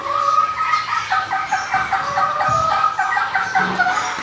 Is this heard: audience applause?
no